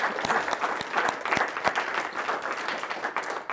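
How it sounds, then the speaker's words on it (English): An audience applauds the panelists at a talk on starting your own firm, a short burst of steady clapping from a modest room crowd, moderately loud and close. "One last round of applause for our panelists for coming."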